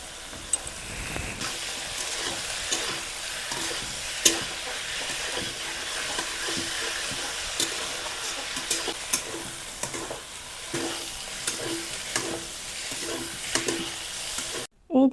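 Eggplant fries with crushed neem leaves in a pan, sizzling steadily, with scraping stirring strokes recurring throughout and a sharp clatter at the very end.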